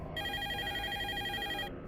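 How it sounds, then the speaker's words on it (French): A telephone rings with a steady electronic tone holding for most of two seconds, moderately loud and alone, cutting off near the end. "Mon téléphone a sonné."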